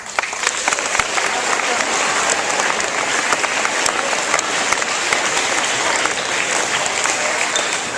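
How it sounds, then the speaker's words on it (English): Steady, dense applause from a large crowd at a school assembly, loud and sustained throughout with no breaks. "she got an applause from the entire school"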